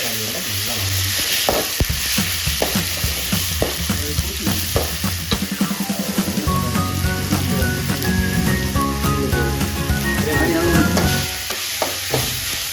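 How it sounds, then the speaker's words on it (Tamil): Fish curry masala sautéed in a pan, with steady loud sizzling and frying throughout and repeated scraping and stirring strokes close by. "மறுபடியும் நன்கு வதக்கிக்கலாம்"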